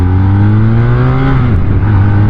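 A BMW R1250R motorcycle accelerating hard: a loud, close engine note climbs steadily in pitch, dips briefly at a gear change, then keeps pulling, with no talk.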